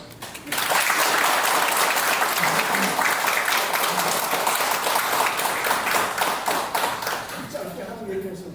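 Audience applause at a Korean book launch event after a congratulatory speech, a sustained broad clatter of many hands clapping steadily from start to near the end.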